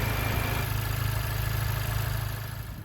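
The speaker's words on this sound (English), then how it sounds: "Here's an example of the HKS Legamax Exhaust for the Type R." A 2020 Honda Civic Type R fitted with an HKS Legamax exhaust idles close by, a steady low rumble that eases slightly toward the end, with no talking.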